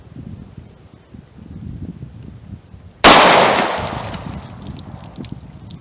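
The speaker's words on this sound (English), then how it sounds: "Alright, time to test out the 38 Special Plus P critical defense" A single sharp gunshot from a .38 Special +P Critical Defense round fired in a 1.875-inch-barrel pocket revolver, close and loud, ringing out over quiet outdoor ambience.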